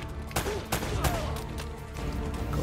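Bursts of AK-style rifle fire in the video game Uncharted: Drake's Fortune, several sharp shots spaced across a noisy action backdrop with a faint voice underneath.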